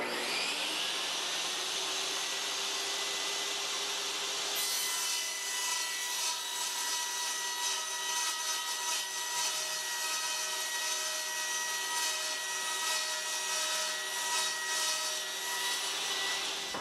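A power saw cuts through an Ambleside Elm wood-look Stainmaster flooring plank indoors, a steady loud whine that grinds on for most of the clip with no voices.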